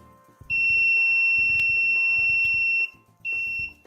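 A loud, steady electronic buzzer tone sounds for over two seconds, cuts off, then sounds again briefly, with faint clicks and background noise underneath.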